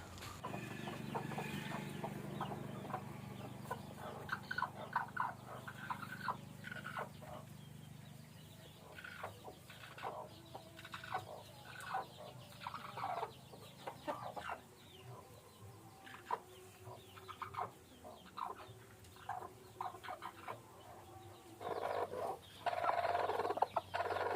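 Hens cluck and squabble in short, uneven bursts over an egg, with a low murmur of clucking underneath and a louder flurry near the end, fairly close and without speech.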